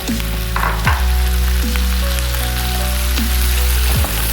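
Corn and chicken hit a hot pan and fry with a loud, steady sizzle, punctuated by a few sharp scraping stirs of the spatula against the metal.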